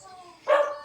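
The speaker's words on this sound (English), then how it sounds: "the dog is barking because John came back" A dog gives one short bark outdoors, loud and close, rising suddenly over quiet background chatter as a man returns with cans of beer.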